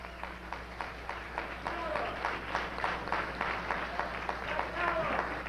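An audience gives Kwame Toure a warm round of applause, steady moderately faint clapping over a low hum, with voices talking and calling out underneath.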